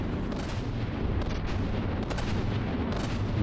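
Heavy cram cannon shots boom repeatedly in a From the Depths battleship fight, a continuous dense barrage of loud, rumbling blasts with sharper reports around the middle and end.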